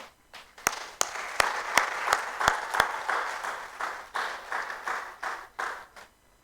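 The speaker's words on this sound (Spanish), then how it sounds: "Un aplauso para los niños." A church audience claps for children, loud scattered applause with sharp individual claps that fades into a thinning patter.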